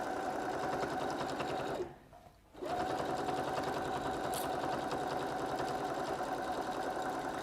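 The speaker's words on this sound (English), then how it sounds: "So I've stitched this very badly because I'm doing it so fast." Sewing machine running fast while stitching a bag, a steady close mechanical whirr that stops briefly partway through and then resumes, with no one speaking.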